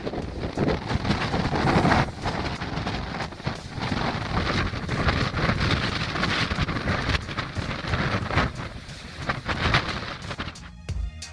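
Strong wind gusting at around 136 km/h at a polar research station, a loud, continuous roaring buffet with constant rushing noise that stays steady throughout and drops off abruptly at the very end.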